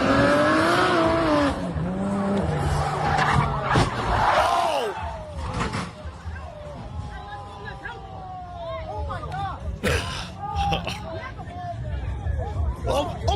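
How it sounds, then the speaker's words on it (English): Tires squeal and a Toyota Supra's engine revs as it skids and wrecks at a car event, with a crowd shouting and chattering loudly throughout. "This guy just wrecked his Supra."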